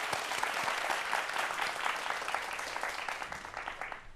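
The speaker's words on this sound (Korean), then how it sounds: "박수 부탁드리겠습니다" A studio audience at a Korean science lecture broadcast gives sustained, dense applause that swells and then slowly thins out over a few seconds, with no voices on top.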